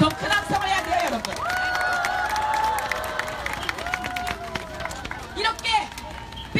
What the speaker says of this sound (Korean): 더 큰 함성을 해야 돼요